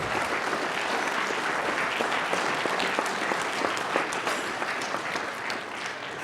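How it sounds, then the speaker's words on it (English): A live-streamed National CyberWatch audience gives a speaker a hand: dense, sustained applause from a large crowd, loud and continuous throughout without a break, with no speech over it. "I want to say one thing before we give him a hand of applause."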